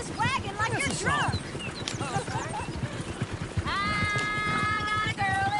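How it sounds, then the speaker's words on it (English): A horse-drawn wagon rolls along in Red Dead Redemption 2, hooves clopping in a steady rhythm with a horse whinnying, under ongoing talk and background music. "Driving this wagon like you're drunk."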